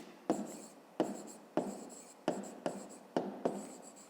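A pen scratches on paper as a fifth-grade math solution is written out. Short strokes come in brisk bursts of about half a second, close and quiet, with no talking during them.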